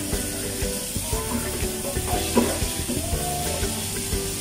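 Pork chops frying in a pan for pork chop steak: a continuous loud sizzle and crackle of meat in hot oil with small pops throughout, up close and without talking.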